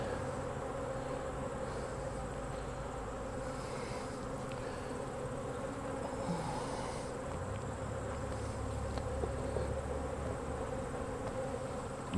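Honeybees buzz at an open hive during early fall hive management, with the brood chamber exposed. The droning is steady and close for the whole stretch, with soft wind-like hiss beneath it and no voices.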